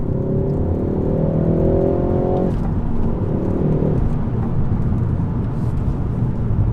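A Mk4 Ford Focus ST accelerates hard from inside the cabin. The engine note rises loudly, drops at a gear change, then climbs again over heavy road and wind roar, with no talking.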